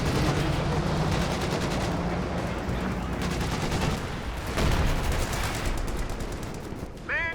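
Battlefield gunfire in a Company of Heroes 2 two-versus-two match: rapid machine-gun bursts and volleys keep going throughout, mid-distance and dense, with a voice talking over them.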